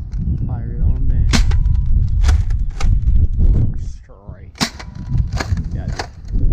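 A Jacobs Longshot fired outdoors in wind, giving several sharp cracking reports spread across the moment, loud and close, with voices talking between the shots.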